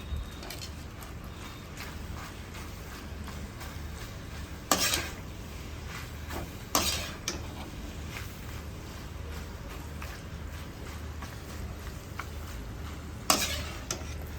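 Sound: stirring red sauce into pasta with cream

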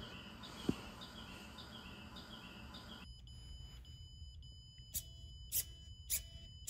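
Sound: bird chirping sound effect from a lab program

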